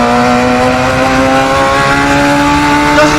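A Radical SR3 XXR race car engine in the Assetto Corsa racing game drones steadily and loudly throughout, its pitch holding high and nearly constant with no voices.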